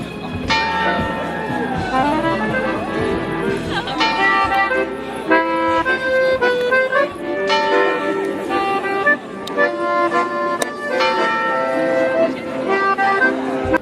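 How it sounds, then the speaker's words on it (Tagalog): Church bells ring out for a wedding in Frankfurt, Germany, a steady clangor of overlapping tolls heard outdoors, with a person talking over the ringing. "may bell pa"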